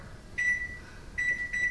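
A kitchen timer is set while molasses cookies bake, giving three short, clear electronic beeps in an uneven pattern, close and fairly loud, with no talking.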